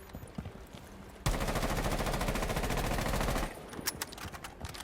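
Automatic gunfire in Rainbow Six Siege sounds as one sustained burst of rapid, evenly spaced shots lasting about two seconds, loud and close, with quieter shuffling and clicks before and after.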